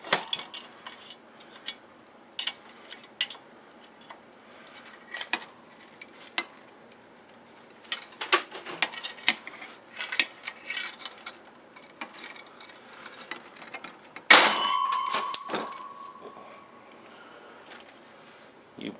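A WJQ-308 Chinese military shovel works against a metal chain, producing scattered close metallic clinks, scrapes and rattles, ending in a sharp ringing clang near the end.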